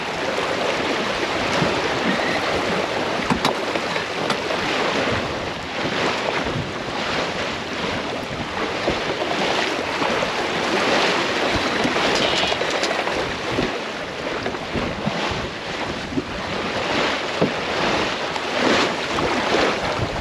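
A sailboat heading out to Lymington through choppy sea, with continuous loud rushing waves and hull wash mixed with heavy wind buffeting the microphone across twenty seconds, steady and unbroken.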